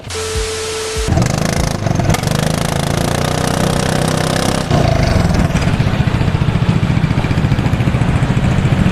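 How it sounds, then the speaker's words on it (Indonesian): A Vespa GTV scooter engine sputters up and then runs loudly through a short exhaust with a rough, rapid rattle, revving slightly partway through. "Kita shoot pakai knalpot pendek"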